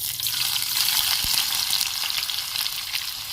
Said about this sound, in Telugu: ఇప్పుడు పొడవుగా కట్ చేసుకొని ఉంచుకున్న ఉల్లిపాయలు అయితే వేపుకుందాం